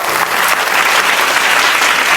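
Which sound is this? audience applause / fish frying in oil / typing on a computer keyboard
audience applause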